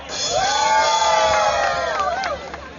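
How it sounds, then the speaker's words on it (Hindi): A concert crowd at a Bahria Town event cheers loudly, with high whoops and shouted voices rising over a dense babble and then fading near the end. "इनके लिए बहुत सारी तालियां।"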